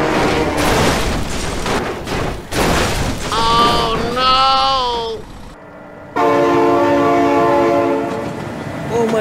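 A train in BeamNG.Drive rumbles loudly amid crashing impacts, then its horn blares in wavering blasts. After a brief near-silence, the horn returns as a long, sustained, close chord.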